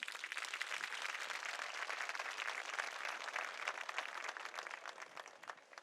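A crowd at a high school graduation ceremony applauds officials, a full, steady roar of clapping heard from a distance that tapers slightly near the end, with no speech.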